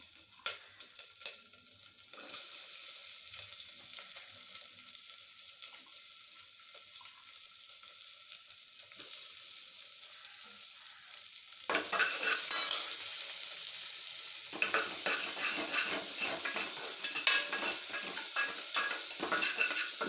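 Onions frying in hot oil with cinnamon, cloves, cardamom and curry leaves, a continuous sizzle with scraping stirs against the pan that grows louder and busier about halfway through, no talking.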